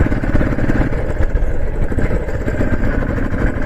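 A motorcycle engine runs steadily while being ridden along a forest road, a loud, close, low rumble with a continuous throaty drone and no break.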